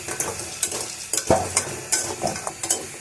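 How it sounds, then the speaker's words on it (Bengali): Chicken frying in oil with chili powder added, a continuous close sizzle punctuated by repeated scraping stirs and soft knocks of the utensil against the pan. "এখন সময় নিয়ে শুধু চিকেনটাকে আপনার তেলের মধ্যে ভেজে নিতে হবে"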